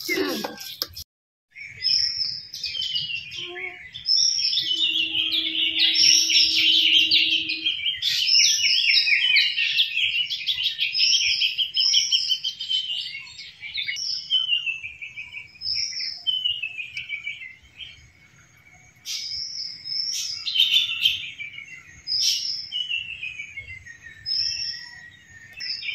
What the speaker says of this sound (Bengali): সকালবেলা এই মধুর পাখির ডাক